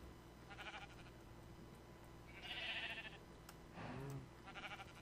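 Sheep in a video game let out several short bleats, a few quiet ones and then louder ones in the middle and near the end, over a faint steady background hum.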